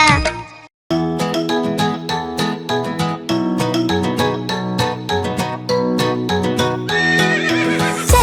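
A horse whinnies and hooves clip-clop in rhythm within a bright, loud children's Hindi rhyme soundtrack, bell-like tones and steady music running throughout after a brief pause near the start.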